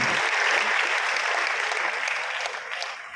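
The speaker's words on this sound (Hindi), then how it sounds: "एक बार अपनी तालियों से आप बताइए" Steady, dense applause from the audience at a Hindi comic poetry gathering in Rohtak, holding strong before tapering slightly toward the end.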